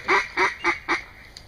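A mud duck gives four quick, evenly spaced quacks, nasal and fairly close, on a hunting marsh.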